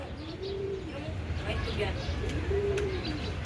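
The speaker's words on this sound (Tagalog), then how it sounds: "mga kalapati din eh" Pigeons cooing at a zoo in Manila, two soft rounded coos about two seconds apart, over a steady background murmur of outdoor noise and faint distant voices.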